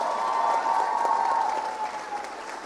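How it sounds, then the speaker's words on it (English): An audience gives loud applause for three women on stage at a talk on modern royalty, a full, continuous clatter of clapping with a sustained cheer-like tone above it, tapering slightly at the end. "I want the loudest applause that you can manage for these three spectacular women"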